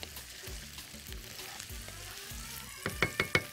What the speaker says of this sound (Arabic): تشويحه بسيطه كده